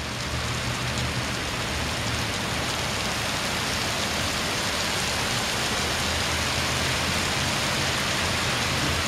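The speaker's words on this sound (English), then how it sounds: "Big, huge downpour." Heavy rain downpour pounding steadily and close by, a dense, unbroken roar of falling water with no talk and no let-up for the whole stretch.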